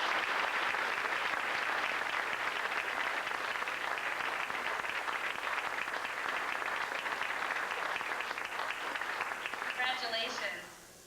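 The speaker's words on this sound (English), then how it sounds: "Let's give all these Greyhounds a big round of applause." Banquet audience at a 2001 Youth Optimist awards dinner gives a long, steady round of applause for students, sustained for about ten seconds before fading out, with a voice briefly heard near the end.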